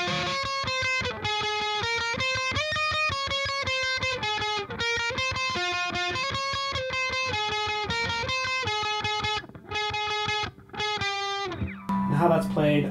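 Distorted electric guitar playing the solo part of a song, a steady stream of sustained, gritty melodic notes for several seconds, ending as a voice starts talking.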